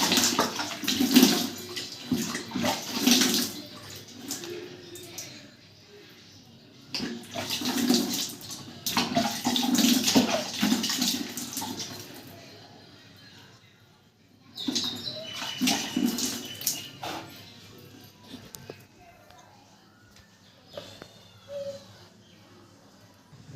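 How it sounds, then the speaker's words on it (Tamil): Water splashes onto a face during washing, several bursts of splashing and running water separated by quiet pauses, close and fairly loud. "இப்போ தண்ணி போட்டுடலாம் மூஞ்சிக்கு"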